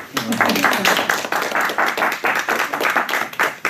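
An audience at a group work session claps in a rhythmic, pulsing pattern, the individual claps close and clear and repeating at a steady beat throughout.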